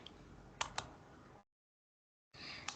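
Typing on a computer keyboard while working in MS Word: a few soft, faint key clicks in a quiet room, including two sharper taps, then a stretch of silence before the light tapping resumes.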